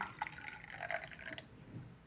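Warm water trickles and drips into a cup of cocoa powder, a light splashing pour that runs for over a second and then fades to quiet.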